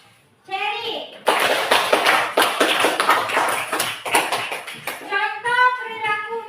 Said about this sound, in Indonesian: Aplaus dulu untuk Cherry.